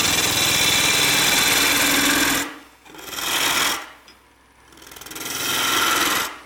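A wood lathe spins a dry burl, giving a loud, steady whirring drone that drops away twice as the machine slows and then spins back up.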